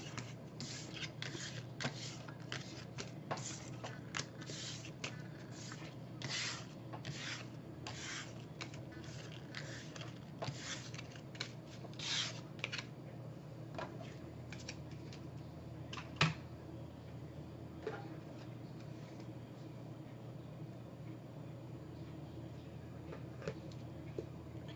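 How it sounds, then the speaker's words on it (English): Tarot cards are shuffled close up in a quiet room, a run of soft riffling swishes and taps in quick bursts for the first half, thinning to occasional light card slides. "Thank you very much for joining me and bearing with me with the shuffling."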